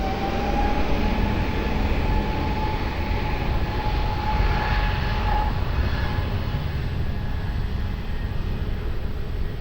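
An Iberia airliner takes off from runway 20 at Lisbon Airport, a distant, broad jet roar that swells gently and holds steady, heard alone without talk.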